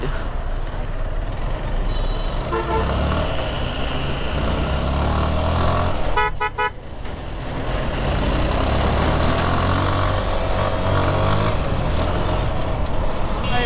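Heavy traffic jam on a highway bypass, heard from a moving motorbike: a steady, loud roar of engines and wind, with a short burst of car horn blasts partway through.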